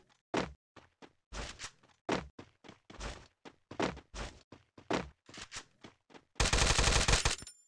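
Gunfire in Garena Free Fire rings out as a series of sharp, evenly spaced shots, then ends in a dense rapid burst of automatic fire, loud and near.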